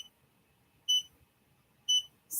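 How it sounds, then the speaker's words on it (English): An embroidery machine that has stopped partway through stitching gives short, bright electronic beeps, two spaced about a second apart and a third starting at the end, against near silence. "because it stopped in the middle of stitching, I'm just gonna back my machine up, and that's gonna make that beeping stop too."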